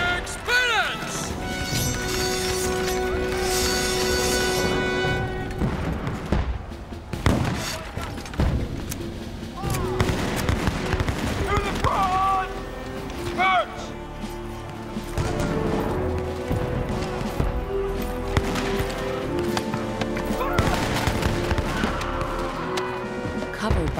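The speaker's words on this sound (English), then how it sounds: "After two straight hours of continuous gunfire from both sides," Battlefield gunfire in a historical rebellion reenactment with British Royal Scots regiment troops: dense, sustained musket volleys and crashes going on throughout, mixed with music and shouting at loud level.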